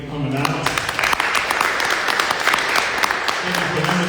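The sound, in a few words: audience applause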